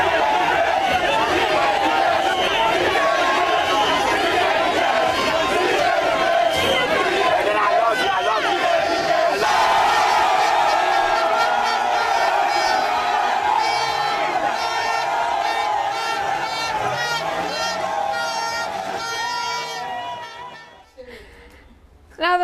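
A dense crowd escorting Nana Addo's political procession with motorbike riders cheers, shouts and chatters continuously and loudly, the hubbub fading away near the end.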